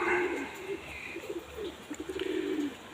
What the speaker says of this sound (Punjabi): ਗੋਲੇ ਕਬੂਤਰ ਵੀ ਆਲਣਾ ਪਾ ਰਹੇ ਨੇ ਆਪਣੇ ਅੰਦਰ ਨੀਰੇ ਵਾਲੇ ਚ ਉਹ ਹੁਣ ਕੋਠੇ ਤੇ ਬੈਠੇ ਨੇ